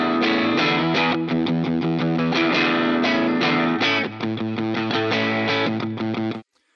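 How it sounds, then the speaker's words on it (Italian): A Telecaster electric guitar played through a Neural distortion plugin strums heavily distorted chords in a brisk rhythm, loud and close, with no voices, cutting off abruptly at the end. "Tanta roba la distorsione con un sacco di chiarezza della Telecaster"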